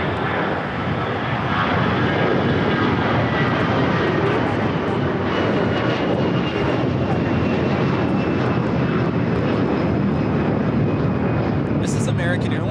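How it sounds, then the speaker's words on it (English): An American Airlines Airbus A321 takes off at LAX, its engines producing a steady, loud roar that fills the stretch, with a voice talking over it throughout. "This is American Airlines 1024 taking off to Orlando on the A321."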